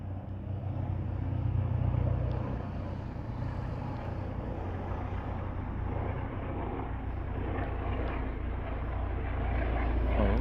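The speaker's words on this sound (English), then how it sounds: "Oh, that's a chopper." A steady low rotor drone of a helicopter passing overhead, sustained and fairly loud throughout with rumbling wind buffeting.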